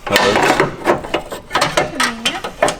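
A ratchet bolts a bracket beneath the power steering cooler lines during a turbo kit install, with loud, close, rhythmic clicking strokes and some metallic clatter.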